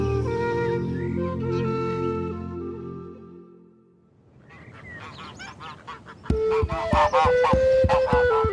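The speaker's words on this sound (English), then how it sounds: "Time for Ruth and Chloe to take out the geese." Geese led out on a fresh August morning in a farm valley honk in a loud, clamorous burst near the end, after a quieter stretch of other sounds.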